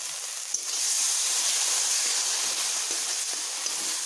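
Prepared spice paste hits a pan of reddish fried onions and sizzles in a steady, close, airy hiss with faint crackles scattered through it.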